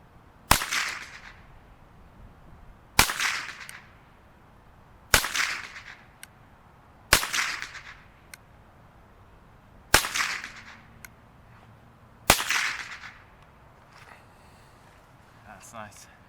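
A Marlin 70PSS Papoose .22 rifle fires six sharp, single cracks at steady intervals of roughly two seconds. Each shot rings out loud and close over a quiet background.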